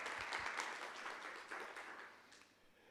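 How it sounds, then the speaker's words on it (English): An audience at a human resources professionals' event claps in a steady dense round of applause that fades slightly toward the end. "one more round of applause for Ms. Qureshi Abdullahi."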